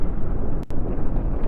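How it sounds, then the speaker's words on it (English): An explosive charge detonates aboard a spaceship in the game Cosmoteer, a loud rumbling blast that roars steadily for over a second with a brief dip partway through. "I'm going to detonate that explosive charge"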